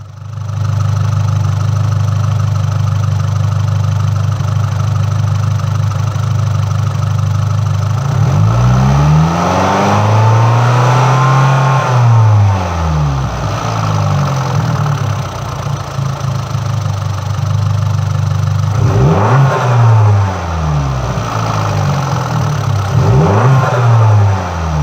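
A Fiat MultiAir engine runs with its valve unit stuck in fail-safe mode at full lift, idling with a steady low drone and then revving up and down in smooth swells several times, loud and close.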